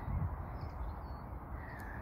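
Crows cawing outdoors over a steady wash of distant traffic noise, the calls faint and far off against the constant low rumble.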